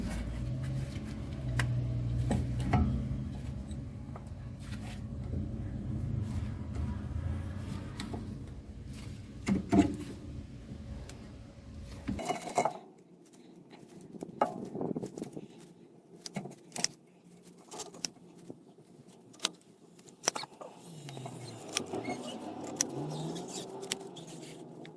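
Rear brake caliper piston on a VW Polo being wound back with a tool, quiet clicks, small metallic taps and ratcheting scrapes spread out irregularly over a faint background hum, with no talk.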